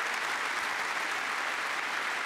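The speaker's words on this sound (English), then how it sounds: "Applause for the century, but everybody waiting for the maximum" A snooker audience claps steadily for a century break, a dense even patter of applause filling the hall at moderate volume throughout.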